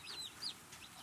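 Mail-order chicks of a pure black copper maran mix from Tractor Supply, with high thin chirps and peeps rising over a steady low background hum, several brief calls in a short burst.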